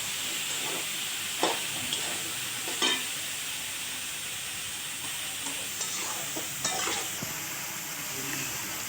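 Pieces of white gourd sizzle in hot oil in a pan, a steady fry hiss with occasional scraping clinks of a spatula stirring them.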